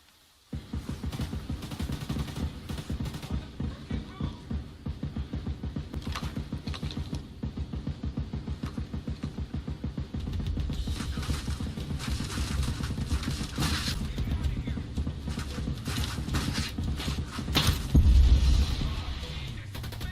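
Rapid, dense gunfire rattles almost without pause while shooting at a gun turret in Ghost Recon Breakpoint, the bursts growing heavier and louder toward the end, with a deep thump near the close.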